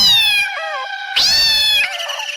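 A black cat meows loudly and close up on a road at night, two drawn-out, wavering yowls in quick succession with a short gap between them.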